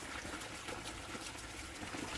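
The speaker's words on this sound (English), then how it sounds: "We've got a bubbling pond here." A backyard pond fed by rainwater bubbles and trickles steadily, a faint, continuous wash of water with no voices.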